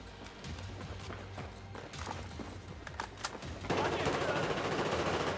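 Automatic gunfire crackles in short bursts during a tactical first-person shooter match, growing denser and louder near the end amid background game noise.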